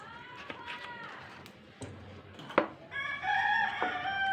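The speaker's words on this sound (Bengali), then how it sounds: "আমাদের এখানে মোরগ পালে অনেকে, সেই জন্য মোরগের ডাকটাও আমরা শুনতে পাই।" A rooster crows in a rural Bangladeshi home setting, its stretched harmonic call rising from about three seconds to the end over faint kitchen clatter and sharp clinks.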